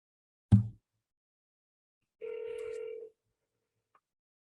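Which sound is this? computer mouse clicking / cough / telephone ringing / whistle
telephone ringing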